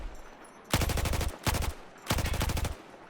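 Light machine gun in Battlefield 4 fired in three controlled bursts of rapid rounds, each about half a second long with short gaps between, loud and close with no talk.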